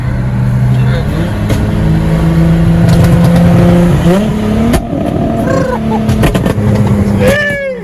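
A loud BMW N54 car engine drones and rises in pitch as it revs, with voices talking over the steady roar.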